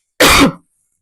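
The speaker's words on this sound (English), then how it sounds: "I've got a cough." A single short, sharp cough, close and loud, followed by silence.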